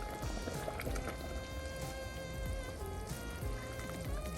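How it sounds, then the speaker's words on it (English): A pot of bolognese sauce boils rapidly, giving a steady, dense bubbling and gurgling that continues evenly throughout, with faint tonal background sounds underneath. "now I have it coming to a rapid boil"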